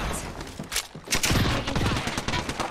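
Rapid bursts of automatic gunfire in an Apex Legends firefight, dense and repeated across the whole moment, loud and close.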